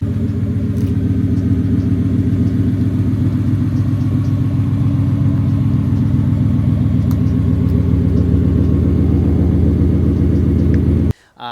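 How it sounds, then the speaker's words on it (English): A 2025 Ford F-150 pickup with an MBRP dual exhaust idles with a deep, throaty engine rumble, steady and loud up close, with a pulsing low exhaust note that cuts off abruptly at the end. "So a nice MBRP dual exhaust back here with the nice tips back here."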